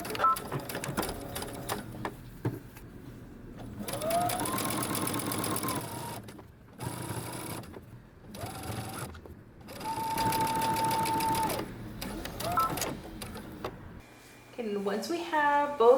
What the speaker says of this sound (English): fold your band over just past your stitching line and we're going to top stitch